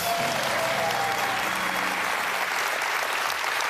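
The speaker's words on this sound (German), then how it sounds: "Applaus!" A TV studio audience applauds for a few seconds at a German comedy show, a steady, dense burst of clapping that fills the whole stretch.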